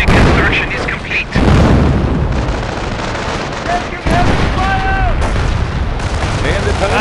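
Gunfire crackles in a Company of Heroes battle during an attack on a base. Dense bursts of shots and booms overlap with game voices and radio-like tones.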